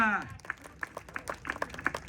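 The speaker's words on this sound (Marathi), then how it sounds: "टाळ्या" Scattered claps ring out from a crowd at a village wrestling bout in Vadachiwadi, Pune, sharp and uneven, following a voice.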